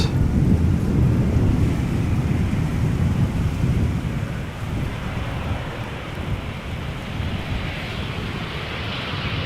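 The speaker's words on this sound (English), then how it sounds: "Embraer 190 KLM arrived from Stuttgart." A KLM Embraer 190 jet arrives at Amsterdam Schiphol Airport, heard as a steady, broad roar that builds and then eases slightly while it passes at moderate distance. Wind rushes into the microphone, and no one talks.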